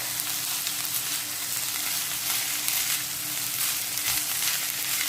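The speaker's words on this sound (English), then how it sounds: "And now I'm just going to stir it." Vegetable fried rice with peppers is stirred in a pan with a splash of olive oil, sending out a steady, dense sizzle that holds even and close throughout with no talking.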